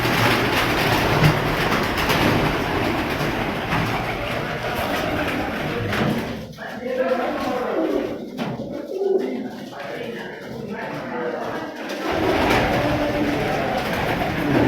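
A bateray pigeon belonging to Ustad Ata Mohammad Kakku of Kamar Mashani coos close by against a steady, noisy outdoor background, with a quieter patch in the middle.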